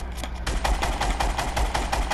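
Rapid automatic gunfire in a video game shooter, a fast, evenly spaced stream of close, punchy shots that runs without pause.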